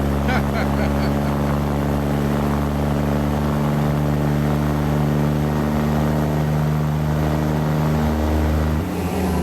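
A Kenworth W900 truck hauling a 66,000 lb excavator in American Truck Simulator, its engine droning loud and steady at high RPM before the pitch drops briefly near the end.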